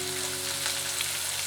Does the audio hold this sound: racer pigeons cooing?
no